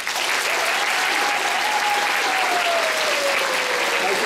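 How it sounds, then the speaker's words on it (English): Crowd at a physics show breaks into loud, sustained applause, dense and steady throughout, with a voice calling out faintly beneath the clapping. "give yourselves a round of applause"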